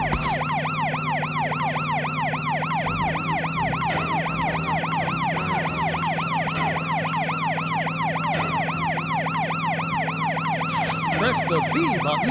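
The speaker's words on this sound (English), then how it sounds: "Press the B button to run the siren and clear the traffic." A police car siren in the Tonka Rescue Patrol video game wails in a steady, fast up-and-down cycle for the whole stretch, loud and up close over a constant low engine hum.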